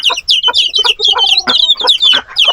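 Hens and chicks on a small farm cluck and peep continuously, high chick cheeps overlapping lower hen clucks close by, with no talk.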